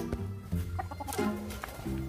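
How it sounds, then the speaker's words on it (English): Chickens clucking on a farm, several birds giving short, irregular clucks and squawks close by against a low background, with no talking. "So we have many chickens here."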